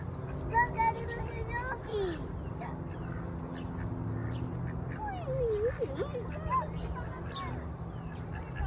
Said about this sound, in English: Stop harassing the ducks.